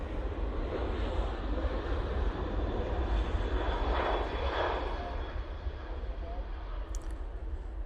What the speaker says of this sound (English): There goes that Ryanair.